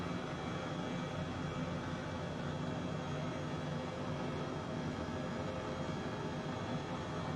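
An H135 helicopter flying in Microsoft Flight Simulator gives off a continuous, even engine and rotor roar with a broad hiss, holding steady and fairly quiet without breaks or speech.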